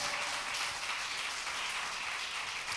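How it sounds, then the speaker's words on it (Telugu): Audience applause at a Telugu Christian sermon, dense continuous clapping from a large crowd, steady and loud for the whole stretch. "కొట్టు గట్టిగా చప్పట్లు"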